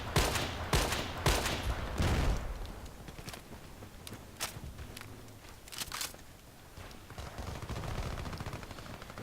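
Rapid bursts of M14 EBR rifle fire in a first-person shooter game, dense volleys at first, then sparser single cracks, sitting over steady background game noise.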